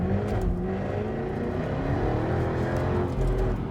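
A Jaguar F-Type R accelerates hard from a launch, its engine a loud, dense, sustained roar heard close from inside or near the car, steady throughout with no talking.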